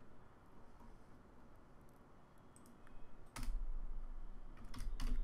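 Computer keyboard typing while entering code, with quiet scattered keystrokes early on, then a louder run of closely spaced clicks, close to the microphone with no talking.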